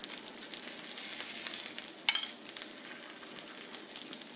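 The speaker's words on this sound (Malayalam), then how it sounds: "ഇനി നമ്മൾക്ക് ഉടച്ച് വെച്ചിരിക്കുന്ന മുട്ട ദോശയിലേക്ക് ചേർത്ത് കൊടുക്കുക." Beaten egg poured onto a dosa in a hot pan sizzles softly and steadily up close, with a brief clink partway through and gentle stirring and spreading sounds.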